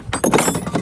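A skiff's outboard motor shifter thunking into gear, a brief dull mechanical clunk heard up close with a little rattle after it.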